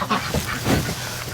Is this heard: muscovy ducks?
yes